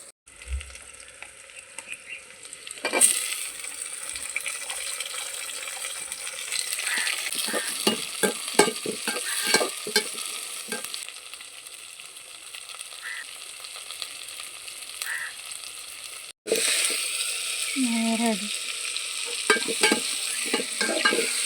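Onions and tomatoes sautéing in a pan, stirred repeatedly with a spoon; a steady close sizzle carries rhythmic scraping strokes throughout, with a short cut partway and no talk.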